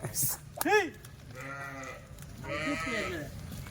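Several bleats from Kathiyawadi goats close by, one sharp wavering call followed by longer drawn-out cries, with background noise throughout.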